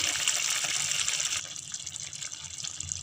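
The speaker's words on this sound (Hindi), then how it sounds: "इसमें मैंने करीब 1 कप पानी डाला है।" About a cup of water pours steadily into a pan of lotus stem curry gravy with a rushing, gurgling sound, then eases into a softer trickle.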